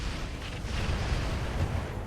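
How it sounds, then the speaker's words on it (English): Thermobaric explosions in the BattleTech mod RogueTech, heard as a continuous low rumbling roar with dull booming swells, loud and dense, with no talk over it. "The thermobaric explosions actually missed that time."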